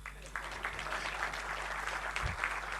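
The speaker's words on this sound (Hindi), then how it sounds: "इस पर तो ताली बजनी चाहिए" Faint, distant clapping from the audience at an Indian defence manufacturers' society event, a soft continuous patter over a steady low electrical hum in a large hall.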